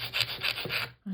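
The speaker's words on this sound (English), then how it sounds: "I just wanted to show you in terms of filing" Acrylic nails on flexi practice fingers being filed with firm pressure, heard as three steady back-and-forth rasping strokes, close and fairly loud, ending in a brief pause.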